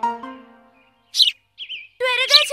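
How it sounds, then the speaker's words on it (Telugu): Cartoon sparrow chirps in a children's Telugu animation: a few bright, high, twittering bursts, separated by short gaps, following a brief tonal phrase at the start, loud and close. "పీకు, పిచ్చుక"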